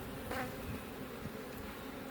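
Dense, steady buzzing of many agitated honey bees swarming close by around an open hive, a continuous droning hum with no talking.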